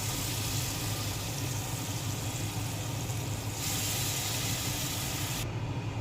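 Pieces of hilsa fish fry in hot mustard oil tempered with nigella seeds in a wok, giving a steady, even sizzling hiss that holds at the same level throughout with no talking.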